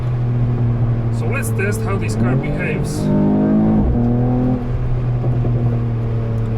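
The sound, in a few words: Mercedes E53 AMG Coupé exhaust while driving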